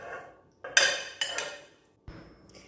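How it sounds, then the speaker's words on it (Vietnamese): Chopped ingredients for Vietnamese jellied braised pork are tipped into a pot in a few quick clattering bursts of metal and utensil clinks, close and crisp, with short pauses between. "Các bạn cho toàn bộ phần nguyên liệu mình đã thái vào trong nồi nha."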